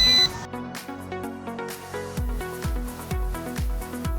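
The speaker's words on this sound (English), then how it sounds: "Rotate the drone horizontally clockwise to hear a beep." An S12 GPS drone emits a short series of electronic beeps during compass calibration, with regular pulses following an opening tone. The beeps sound clear and close, and no one speaks over them.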